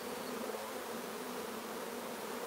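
Honeybees buzzing at an open hive of a strong colony, a steady, dense, close hum of many bees, continuous and even, with no voices.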